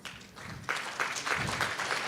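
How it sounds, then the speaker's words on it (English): Audience applause fills a hall, soft scattered clapping at first, then swelling into steady, moderately loud clapping from a crowd. "I invite you, our moderator, Ms. Kim Rooney, a round of applause."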